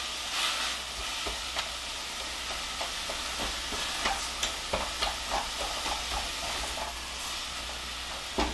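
Vegetables frying over high heat in a skillet while being stirred, a steady loud sizzle with repeated scraping and stirring knocks throughout, no talk.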